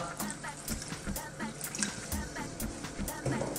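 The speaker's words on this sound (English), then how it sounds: "We're now going to add a touch of water." Cold water, about a cup, poured into a pot of beef chili con carne with tinned tomatoes, a steady splashing pour lasting a few seconds with soft clinks under kitchen noise.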